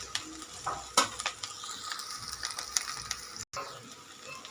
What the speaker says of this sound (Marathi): हे बघा मी खालीवर करून घेतलेलं आहे